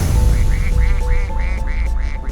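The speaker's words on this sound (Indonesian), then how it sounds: "Kenapa rekaman suara Tante Lisa jadi suara bebek" A voice recording altered into duck quacking, a loud close run of about eight evenly spaced quacks over a low steady background rumble.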